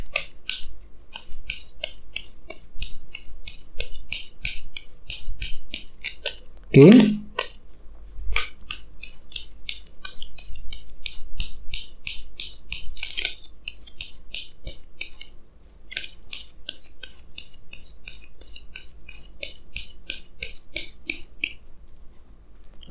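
Tarot cards being drawn and shuffled, with quick papery flicks and riffles repeating steadily for a long stretch, close by, with a brief spoken word and a soft thud partway through.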